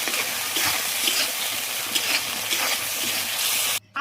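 Masala spices for a fish-head dal being fried in a pan, a dense close sizzle with light stirring scrapes, steady for a few seconds before cutting off abruptly near the end.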